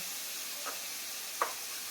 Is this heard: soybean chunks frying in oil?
yes